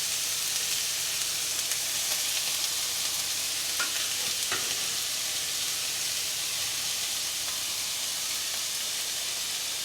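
Shallot sizzles steadily in a hot pan for Cantonese fried rice, a loud continuous hiss with a few brief stirring clicks, no talk.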